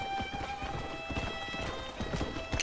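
In Red Dead Redemption, a horse's hooves clip-clop in a steady rhythm over a constant tonal game background, moderately near and continuous throughout.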